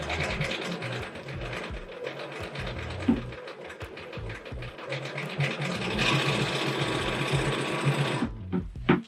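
A long arm quilting machine stitching through a heavy quilt, a rapid, steady mechanical chatter that grows louder and busier toward the end, with a few bumps as the weighty fabric is shifted.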